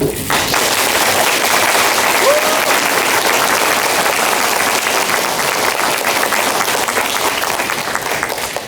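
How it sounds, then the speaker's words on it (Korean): Sustained audience applause fills a political talk concert in Busan, a dense, steady wash of many hands clapping at close range with some crowd voices mixed in, holding loud for nearly nine seconds before easing slightly at the end. "조금 전 박수는 우리 저번 박수 때에 비해서 강도가 약간 약했습니다"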